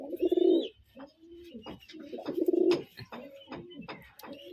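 Pigeons in a breeding loft give repeated deep, throaty coos in two rolling bursts, close by and fairly loud, with soft rustles and faint chirps between calls.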